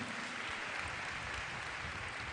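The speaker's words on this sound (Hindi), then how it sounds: "जोरदार तालियां बजाएं" Congregation clapping during a live televised church sermon, a steady, fairly faint patter of many hands that stays even from start to finish.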